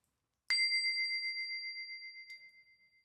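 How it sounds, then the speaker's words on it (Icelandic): A bell or singing bowl is struck once sharply, then rings with a long, pure sustained tone that slowly fades. A second, lighter strike comes a couple of seconds later in an otherwise quiet room. "Enn og aftur þá ætla ég að nota þessa bjöllu, eða fallegu skál, til að slá inn tóninn."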